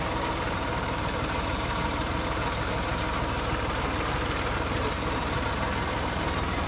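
Tractor engine idling while driving through water, a steady, continuous low engine rumble with constant noisy texture and no talk.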